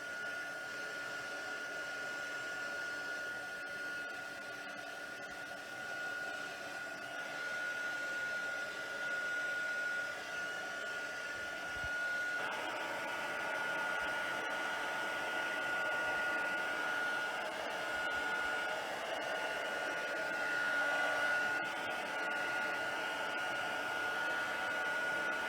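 A heat tool blows steadily while drying both sides of a watercoloured butterfly card, a continuous close whirring hum that holds for the whole stretch without talk.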